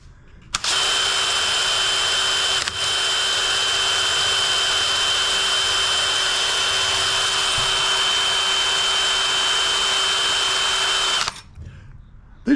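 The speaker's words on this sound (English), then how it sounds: "These drill bits ain't touching that bolt." Drill bit grinding against a hard valve cover bolt on a Craftsman DLT3000 riding mower, a loud continuous high whine starting abruptly, briefly dipping once, then holding steady until it cuts off near the end.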